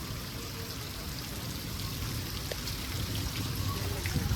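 Heavy rain pours down in Banaskantha district, a dense, steady hiss of falling water that stays loud and unbroken from start to finish, close to the listener.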